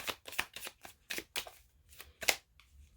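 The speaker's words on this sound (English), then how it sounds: "I just shuffle until it feels right to pull" A tarot card deck being shuffled by hand, a quick series of crisp riffling bursts in uneven rhythm, close and quiet.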